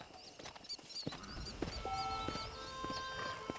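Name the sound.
horse in the video game Red Dead Redemption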